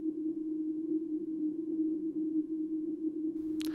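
Steady machinery hum from the front of a drill press gear housing, a constant low tonal drone running throughout with a brief higher burst near the end.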